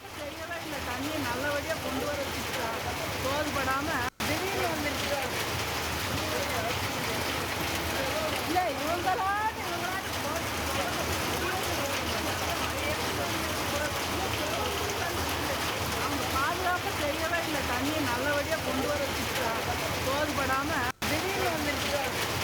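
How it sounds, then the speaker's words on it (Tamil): Heavy rain pours for over an hour across Pollachi in Coimbatore district, flooding the roads: a dense, steady hiss of downpour and splashing water, continuous and close, with no clear talking. "கோவை மாவட்டம் பொள்ளாச்சி மற்றும் சுற்றுவட்டார பகுதியில் 1 மணி நேரத்திற்கும் மேலாக கனமழை வெளுத்து வாங்குகிறது"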